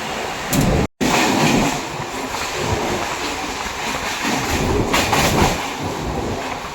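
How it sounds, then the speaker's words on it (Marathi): A Virar local train in Mumbai rumbles past up close, a loud steady roar of wheels and carriages with a brief cut near the start and a surge later on; no talking. "आता आपली विरार लोकल आलेली आहे"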